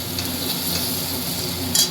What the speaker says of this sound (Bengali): পেঁয়াজটা একটু ভেজে নিতে হবে